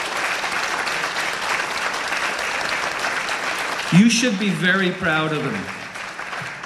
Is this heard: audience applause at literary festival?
yes